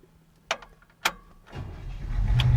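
A 1965 Chevrolet El Camino in unrestored condition, starter cranking in two short bursts before the engine catches and settles into a building, rumbling idle nearby.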